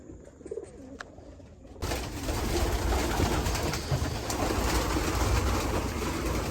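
A flock of pigeons coos inside a stock loft, their soft overlapping calls swelling into a dense, continuous chorus after a quieter opening with a few wingbeats.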